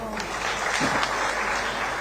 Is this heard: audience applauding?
yes